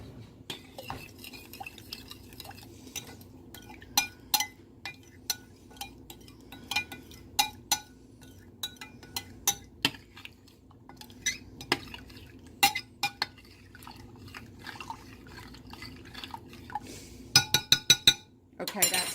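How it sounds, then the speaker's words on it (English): Spoon stirring yeast into warm milk in a bowl for sourdough bread, heard as a run of light clinks and taps against the bowl that quicken near the end, with faint background voice. "I'm going to give that a stir."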